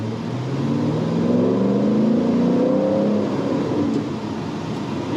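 Twin screw supercharged 2010 Chevrolet Camaro 2SS with short throw shifter and upgraded clutch pulls hard, engine note climbing steadily before a quick gear change drops the pitch, heard loud from inside the car.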